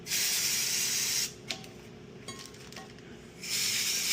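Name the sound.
spraying brake cleaner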